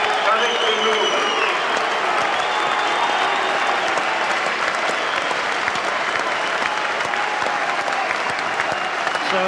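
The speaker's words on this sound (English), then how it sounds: "Now a round of applause for a game that did so much this afternoon." Dense, loud applause fills a rugby league stadium for Featherstone Rovers after the 1989-90 Yorkshire Cup final against Bradford, clapping sustained throughout with a commentator's voice over it.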